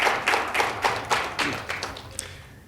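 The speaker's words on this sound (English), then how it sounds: "David, round of applause for Sean." A short burst of applause for baseball pitcher Sean Manaea, a handful of people clapping in uneven, spaced bursts that gradually thin out.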